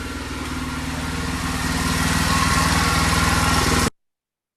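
A 212cc 6.5 horsepower go-kart engine, freshly installed and being broken in, runs steadily with a dense, buzzing throttle close by for nearly four seconds, then cuts to sudden silence.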